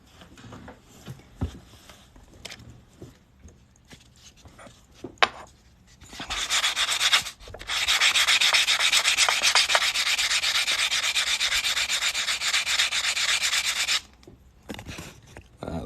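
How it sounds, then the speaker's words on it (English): Sanding the cut edge of a 2022 American Silver Eagle silver coin being made into a ring: a steady, loud abrasive rasping that runs continuously for several seconds after a few scattered scrapes and knocks, then stops abruptly. "I'm going to sand this cut edge right here and make that nice and smooth"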